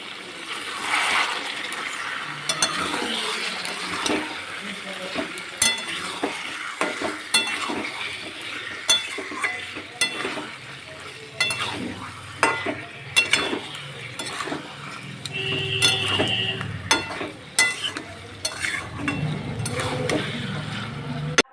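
Meat frying in a pan of spiced masala as it is stirred: a continuous sizzle with repeated scraping and clinking of a utensil against the pan, close and fairly loud, with no speech.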